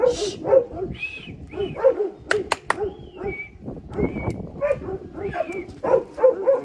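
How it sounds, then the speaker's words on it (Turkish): Repeated sharp dog barks ring out close by, overlapping with a voice speaking, with a few high chirps in between. "Köpek bağırıp duruyor."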